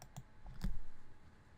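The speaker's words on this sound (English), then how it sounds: "I'm just going to click install now" A couple of soft computer mouse clicks while installing a WordPress plugin, close and quiet against faint room hiss, one light tap followed by a firmer click.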